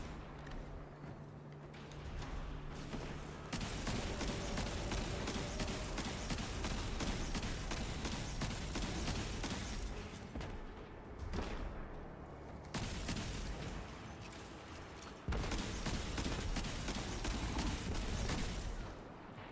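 Bullets fly in a video game as a barrage of rapid gunshots. The firing is continuous and loud throughout, with brief dips before it starts up again.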